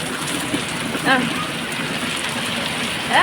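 Heavy rain pours down steadily as a dense, continuous hiss close by, with brief vocal sounds breaking through now and then.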